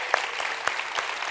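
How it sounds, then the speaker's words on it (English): An audience at an International School Bangkok student event claps for the tech department, a short burst of scattered applause with a few crisp, distinct claps over a soft wash of hands. "We also want to give a big round of applause to our tech department and Mr. Christopher Bell"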